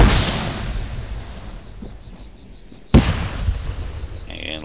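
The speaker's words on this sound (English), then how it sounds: "And we'll throw a grenade." A single sharp grenade blast from the military shooter Arma 3 cuts in partway through, loud and sudden, following a stretch of quieter ambient game noise, with some clicking afterward.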